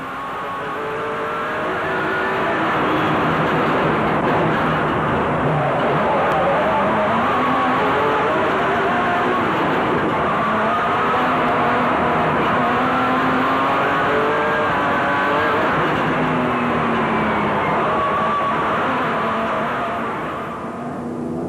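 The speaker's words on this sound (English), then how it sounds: "Enjoy the ride on board Vos and Testega's proudly South African Nissan hardbody, but watch out for those drop-offs." On board a South African Nissan Hardbody off-road race truck during the 2004 Lesotho Sun 400, the engine drones and revs steadily under loud rumbling and rattling from rough terrain, close and continuous throughout.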